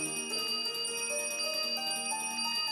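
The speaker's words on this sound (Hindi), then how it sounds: "उतने में वो घंटी जो है बज गई टन टन" A bright metallic bell rings repeatedly, its clear tones sustaining and overlapping in a steady shimmering wash.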